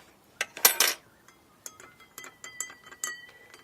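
Glass containers of soil-washed water being stirred, bright clinks and chinks of a utensil against glass, a clustered burst of rattling followed by a string of lighter, evenly spaced taps, close and clear.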